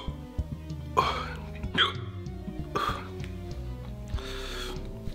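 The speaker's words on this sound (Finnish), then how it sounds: "Heti iskee hikka." Hiccups from someone who has just eaten a Carolina Reaper chili during a hot pepper challenge, several abrupt vocal jerks spaced irregularly over a few seconds, close to the mic, with a faint background hum.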